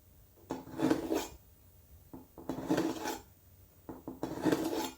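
Scissors drawn through the scissors slot of a budget three-stage kitchen knife sharpener, giving three separate rasping strokes of rough, gritty filing at close range, each about a second long with short pauses between.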